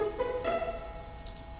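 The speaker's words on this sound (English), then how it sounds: "if we play the recorded male Mantella calls from the wild" Played-back recording of wild male Mantella frogs calling, a few short, high, insect-like clicks and chirps scattered over a brief stretch against faint background hum.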